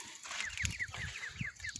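Ducklings and adult American ducks peep in quick, high chirps repeating over soft low clucking calls, fairly faint and close, with no voices.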